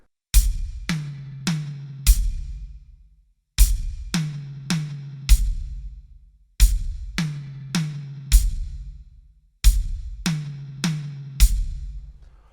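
Drum fill on a kit with hi-hat, bass drum and high tom, played as four repeated phrases of sharp, loud, close hits, each group of strikes with a ringing tom tail and clear gaps between phrases.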